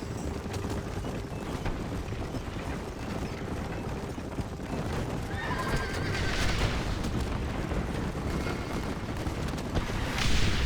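Galloping horses pulling a wagon pound along steadily under constant, dense Red Dead Redemption game noise, with whinnies and a swell of clatter near the end.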